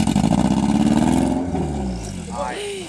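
An engine at an off-road trophy event in Plovdiv revs hard and loud, its pitch sweeping up and down before sagging as it strains, with shouting voices nearby.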